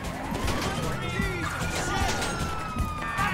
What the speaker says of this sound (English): Of course there's a police car.